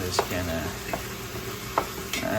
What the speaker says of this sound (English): just gonna mix it a little bit here, make sure it's broken up